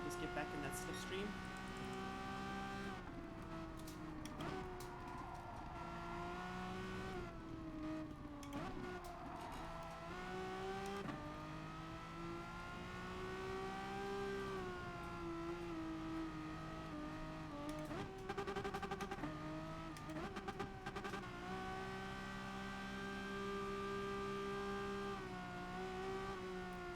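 Race car engines in Gran Turismo Sport rev and shift continuously on track, rising and falling in pitch through gear changes, with a voice talking over the game sound.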